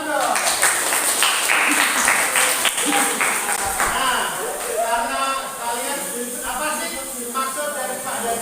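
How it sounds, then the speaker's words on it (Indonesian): Children applauding in a classroom, a dense burst of clapping at the start that thins out, with voices speaking over it. "Tepuk tangan dong."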